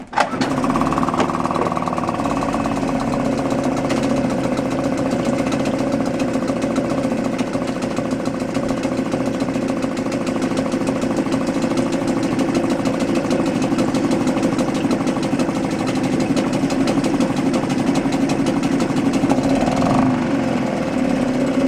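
A 2017 Suzuki 2.5 hp outboard motor runs with its choke on, giving a steady, loud, buzzing drone close by for about twenty seconds with no talk over it.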